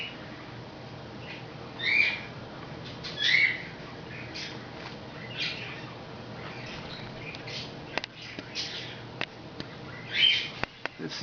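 A pet bird that recently flew into a curio cabinet gives a few brief squawks and chirps at intervals over a low, steady room hum, with some sharp clicks near the end.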